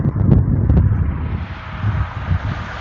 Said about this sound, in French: avec un vent qui vient de la gauche, assez important